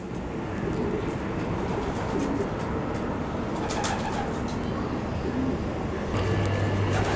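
Racing pigeons coo inside a pigeon cote, a steady murmur of soft birdsong running through the whole stretch with a constant low background hum.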